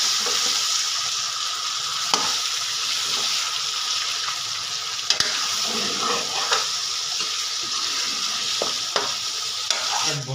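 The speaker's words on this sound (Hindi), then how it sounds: "इसको भूनेंगे 7 से 8 मिनट के लिए।" Beef trotters (paaye) frying in a pot, a steady close sizzle running throughout with occasional stirring clicks and scrapes, and no talking.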